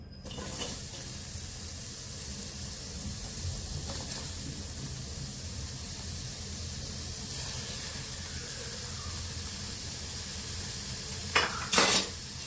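Chopped onion fries in oil in a pan for a capsicum curry, a steady close sizzle that holds throughout, briefly swelling near the start and again near the end as the pieces are stirred.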